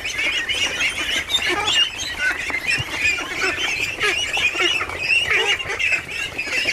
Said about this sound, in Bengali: এখানে হাঁস আছে মোটামুটি আপনার 350 হাঁস আছে।